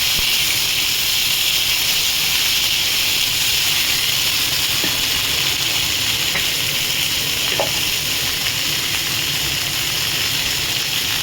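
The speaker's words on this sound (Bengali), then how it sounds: "সেই তেলের উপর দিয়ে দিলাম, একটু ভালো করে ভাজবো।" Cauliflower, peas and carrots fry in hot oil with a dense, continuous sizzle and hiss, close and loud, with a couple of faint utensil clicks against the pan.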